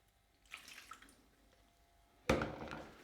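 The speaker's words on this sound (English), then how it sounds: "So, now we add the water" Water poured into a bowl of cabanossi sausage meat mix, a short splashing burst arriving near the end after faint handling sounds, close and fairly loud.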